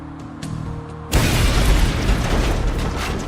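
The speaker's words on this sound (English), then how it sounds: "The explosion was ferocious" A bomb blast as a dramatic sound effect: a quiet mechanical ticking and clicking, then a sudden loud boom that fills the space and rolls on as a long heavy roar of debris.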